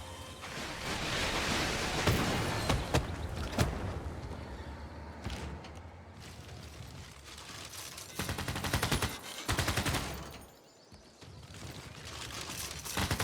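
A combat unit in Civilization VI bombards Moscow's city walls with loud rumbling volleys, rapid crackling fire and booming impacts that surge, fade briefly, then return.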